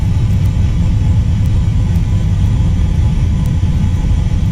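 Main rocket engine of a spacecraft in the Orbiter 2017 simulator during the climb to orbit, a loud, steady low roar and rumble that holds unbroken throughout.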